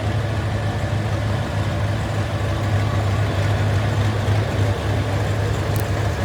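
A 1976 Pittsburgher model 1155 tractor with a 540 cubic inch V8 rumbles steadily in a low, even drone as it rolls by at a steam and gas show parade.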